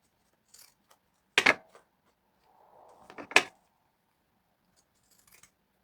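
Pointed scissors make two sharp snips with a quieter rustle between them, alone in an otherwise quiet room during a craft activity.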